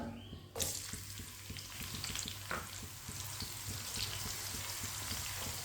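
Finely chopped onion browning in oil with cumin, keeping up a steady close sizzle while a spoon scrapes and stirs through it in regular soft strokes, with no voices.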